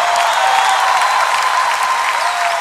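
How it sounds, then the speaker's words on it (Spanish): Congregation applauding at a worship concert, a dense, steady wash of clapping that fills the space evenly and stays loud for the whole stretch with no voices breaking through. "¿Por qué no te pones de pie y le das ese aplauso a Él esta noche?"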